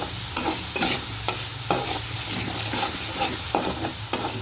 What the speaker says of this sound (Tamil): நல்லா புளித்தொக்கு நல்லா சலசலன்னு கொதிச்சுட்டு வருது